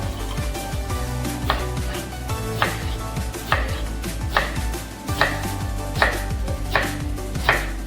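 A knife chops ingredients for a Seychelles-style octopus curry with about nine crisp, evenly spaced strokes on a board, close and clear over a low background hum, with no voices.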